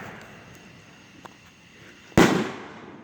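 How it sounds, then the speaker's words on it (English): Fireworks outdoors: a single sharp, loud burst erupts after a quiet stretch of faint background hiss and then crackles away as it fades. "Are these illegal fireworks?"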